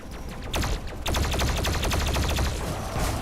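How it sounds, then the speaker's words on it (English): Rapid bursts of plasma rifle fire in Doom Eternal, a fast stream of energy shots with a short pause before a longer continuous volley, loud and close with no talk. "It's just gonna have to be spamming plasma rifle."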